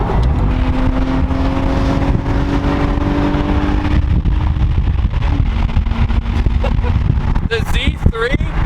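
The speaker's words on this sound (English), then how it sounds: "the exhaust on this car sounds pretty good" A BMW Z3 roadster's exhaust drones and rises as the car revs and drives, loud and close throughout, with engine tones shifting midway and brief excited voices near the end.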